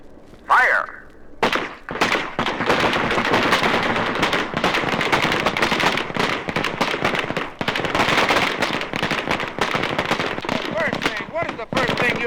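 Rifle fire at an Air Force basic training firing range: after a brief voice, a dense, loud, continuous barrage of overlapping gunshots from many shooters crackles on for about ten seconds.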